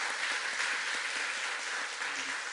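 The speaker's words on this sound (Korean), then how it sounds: "우리 박수로 축복해 주시기 바랍니다" Church congregation applauding together during a Sunday worship service, a dense, steady wash of clapping from many hands that fills the room evenly for a few seconds without a break.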